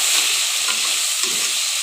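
Ginger-garlic paste fries in hot oil in a pan, giving a loud, steady sizzle with stirring scrapes that carry on without a break and no voices.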